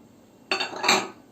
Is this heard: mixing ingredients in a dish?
yes